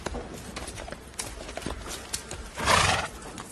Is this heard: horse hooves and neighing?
yes